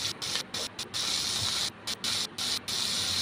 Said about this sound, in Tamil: இந்த எண்ணெயிலே வதக்கிடுங்க. முட்டைக்கோஸு நல்லா வதங்கட்டும்.